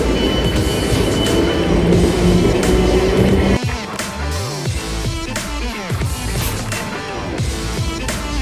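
A London commuter train heading toward New Malden rumbles loudly and steadily, with dense rail noise that shifts midway to rhythmic clatter and a few tonal wheel squeals.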